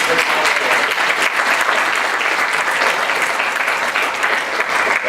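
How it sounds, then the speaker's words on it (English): Loud, sustained applause from an audience at a Reagan/Carter 1980 mock debate rises for the candidates on stage, many hands clapping in a thick, continuous roar with no break. "Have another round of applause for the candidates."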